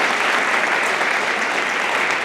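Concert audience at the AIMS 2023 annual program at Yellow Box applauding, a dense, even burst of clapping that stays loud for the whole moment with no voices over it.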